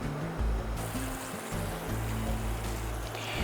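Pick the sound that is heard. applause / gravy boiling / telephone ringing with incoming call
gravy boiling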